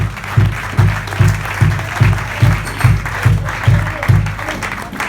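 A crowd claps in a steady rhythmic beat, loud, even bursts of applause repeating about twice a second throughout.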